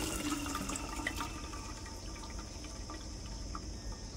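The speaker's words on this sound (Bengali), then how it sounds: "জলটা ফেলে দিই, ঢাকা দিতে হবে এটা।" Water is tipped out of a cooking pot in a home kitchen, a steady splashing pour running continuously and fairly loud without any talk.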